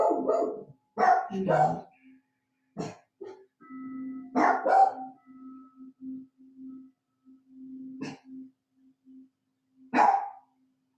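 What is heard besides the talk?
dogs barking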